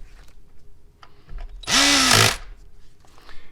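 A power tool spins to tighten an ignition coil bolt on a 2011-2019 Ford Explorer 3.5 engine, one short, close, rising whir lasting under a second, surrounded by faint background noise and no talking.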